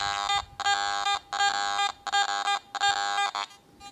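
A Garrett AT Gold metal detector sweeping over a gold specimen gives five repeated tonal beeps in even bursts, slightly broken up, close and clear with no talk.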